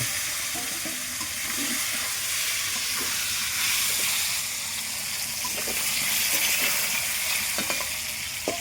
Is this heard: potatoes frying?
yes